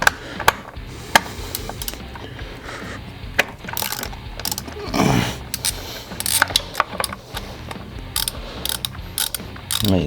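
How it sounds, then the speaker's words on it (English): A ratchet wrench clicks while removing a 10mm bolt from a Camaro engine near the valve cover, with sharp metallic clicks in irregular bursts and occasional clanks, close and fairly loud. "We want to remove the 10mm bolt behind your vacuum lines here and the valve cover."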